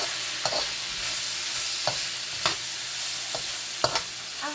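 Long green beans, turnip and onion stir-fry in a hot pan, with a steady broadband sizzle and occasional sharp scrapes and clacks of a utensil stirring the vegetables, close and continuous with no talk.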